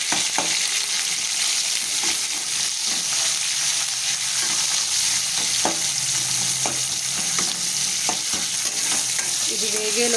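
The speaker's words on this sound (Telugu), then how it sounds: "చూడండి ఫ్రెండ్స్, ఉల్లిగడ్డలు మంచిగా ఫ్రై అయినాయి." Onions and green chillies frying with curry leaves and salt for an egg pulusu curry, a loud, constant sizzle with occasional scrapes of a stirring spoon, and no one speaking.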